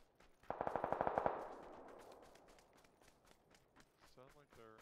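Rapid burst of about eight loud gunshots in a video game, a firefight out in a lava area, followed by fainter scattered shots and clatter, with a voice speaking briefly near the end.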